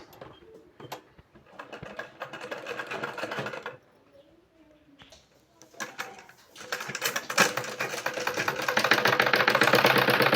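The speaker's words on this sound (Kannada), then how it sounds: "ಈ ಥರ ಹೊಲಿಗೆ ಹಾಕೊಂಡ್ಬಿಡಿ." Sewing machine stitching a blouse, bursts of fast rhythmic mechanical whirring close by, stopping briefly midway and resuming louder and steadier toward the end.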